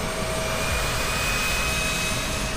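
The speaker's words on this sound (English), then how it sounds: "Firing up the twin General Electric TF-34GE100 turbofan engines is a full body rumble." An A-10 Warthog's twin General Electric TF-34 turbofan engines run with a steady, loud whining roar, a constant high tone over a broad rumble, heard close with no talk.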